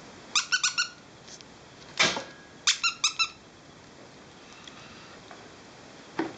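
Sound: squeaky toy squeaking

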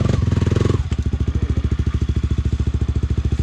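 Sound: Honda CRF300L motorcycle riding

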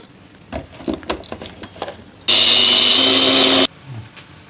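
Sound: mixer grinder grinding tempering spices and coriander seeds

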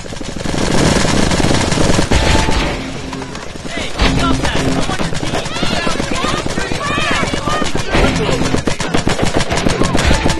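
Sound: paintball guns firing in video game Greg Hastings Paintball 2

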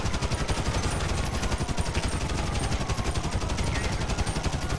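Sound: gunfire in the video game GTA 5

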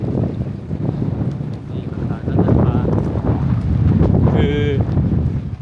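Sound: strong wind

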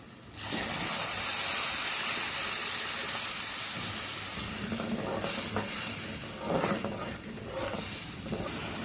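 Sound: hot water poured into pan of chicken liver masala

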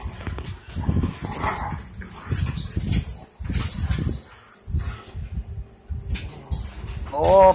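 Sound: puppies whimpering and barking

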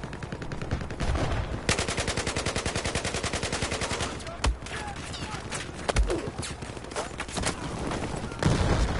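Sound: gunfire in a video game

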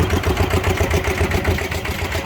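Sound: Yanmar 120 DI engine running on a cassava grinder truck

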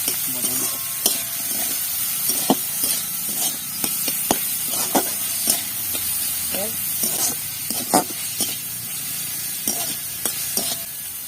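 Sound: onions frying until light brown

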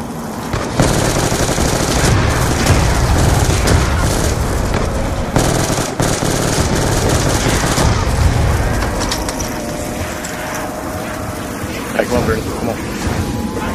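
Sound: gunfire from the Black Ops 2 video game

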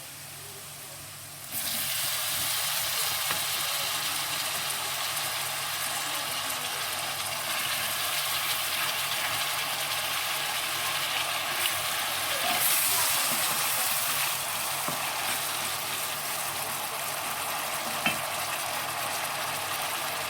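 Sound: mushrooms sizzling and being stirred in a frying pan

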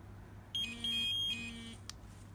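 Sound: dog training collar receiver beeping during remote pairing

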